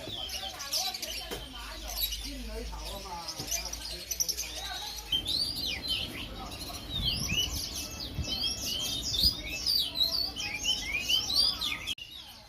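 Caged birds at a Hong Kong bird market, a busy street shop selling birds of all breeds, feed and Chinese-style cages, chirp and tweet in overlapping high calls throughout, with market bustle and low traffic rumble beneath.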